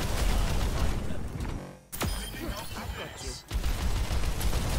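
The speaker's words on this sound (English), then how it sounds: "or were they just trying to shoot at a Genji through a wall?" Gunfire in the video game Overwatch 2, with weapons shooting through a wall: dense, continuous rapid fire and mechanical effects, loud throughout, broken by two short dips, with voices mixed in.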